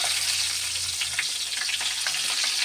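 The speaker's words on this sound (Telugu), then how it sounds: "ఫ్రై చేస్తున్నాం అనమాట వంకాయలు" Brinjals (eggplants) fry in hot oil in a pan, a dense, continuous sizzle close by with scattered pops and faint stirring, and no talking.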